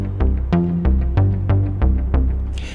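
A Stepic plugin step sequence plays straight through with no random steps: a steady run of short, punchy synth notes with deep low end, evenly spaced at a brisk, unchanging tempo, loud and alone.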